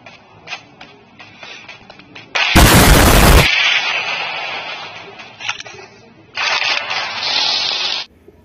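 Gunfire and a bomb blast sound in a shooter video game, with scattered shots, one loud sharp explosion burst, and a sustained rattle of fire near the end.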